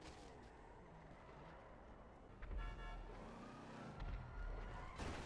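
A small BMW drives through a crowded online GTA 5 free-roam session, its engine droning steadily under busy traffic noise, with a loud burst mid-way and horn-like toots.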